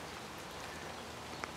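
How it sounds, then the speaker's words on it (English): Steady rain patters on plants along a garden path among seeding erythroniums and alliums, a soft continuous hiss of drops at close range with no talking. "As the patter of rain comes heavier on my head."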